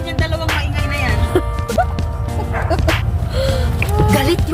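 A dog barks and yips in short bursts amid a noisy room, with people talking around it.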